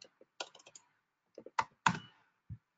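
Several short bursts of keystrokes on a computer keyboard as a web address is entered, a few quick taps, a pause, then a louder cluster and one final key, close and fairly quiet.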